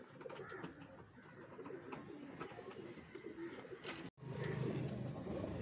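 Pigeons coo softly and repeatedly, low rounded calls amid a busy background of other birds, with a brief dropout near the end.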